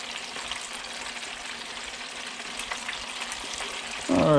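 Coated gafftopsail catfish pieces fry in hot oil with a steady, even sizzle that runs throughout and grows louder at the very end.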